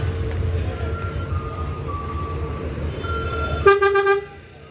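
A loud bus horn blast sounds near the end, short and bright, over a steady low engine idle and faint background hum.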